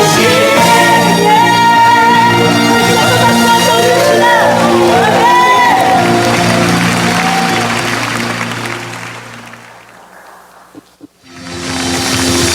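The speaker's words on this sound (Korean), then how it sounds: "우리의 믿음의 고백을 기뻐 받으시는 그 주님께 더 큰 박수 함성을 드립니다." A church congregation at a retreat center cheers and shouts, with many overlapping raised voices forming a loud, swelling roar. It fades sharply away after about nine seconds, then rises again briefly at the end.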